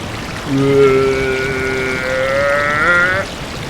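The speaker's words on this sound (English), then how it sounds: "Oh, it's a wacky water elevator" A water elevator in a video game runs with a sustained, whale-like tonal drone and watery gurgling that starts abruptly, swells and bends slightly in pitch for about three seconds, then cuts off cleanly.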